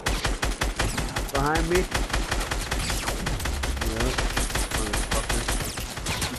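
Dense, continuous automatic gunfire in a Fortnite match, loud and close, with a rapid steady rhythm and overlapping shots throughout, under brief talk from players.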